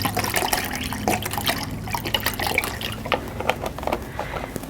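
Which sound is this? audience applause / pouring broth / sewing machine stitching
pouring broth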